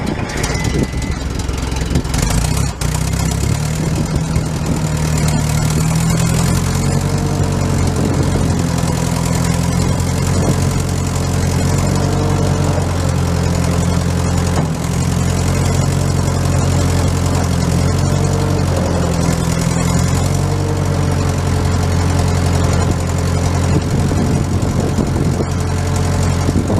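A 1950s Massey Ferguson T20 tractor engine idles steadily and fairly quietly, with a continuous low, even chugging that holds throughout.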